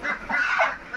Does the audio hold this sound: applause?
no